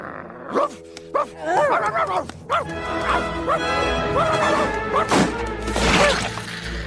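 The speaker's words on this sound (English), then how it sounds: "Their musings are interrupted by a chase between Annalise's cat, Seraphina, Preminger's poodle, named Midas" A poodle yips and barks in quick, excited bursts close by, with scuffling and clattering noises mixed in, as in a lively chase with a cat in an animated film.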